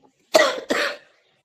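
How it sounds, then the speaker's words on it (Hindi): Two sharp coughs from a woman in quick succession, close and fairly loud, followed by silence. "उनको खांसी हो रहा है, सुनाई दे रहा है"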